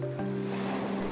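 Ocean waves wash onto a shore where seawater is gathered for salt making, a steady broadband surf rush mixed with low humming tones throughout.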